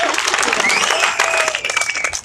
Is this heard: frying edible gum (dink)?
no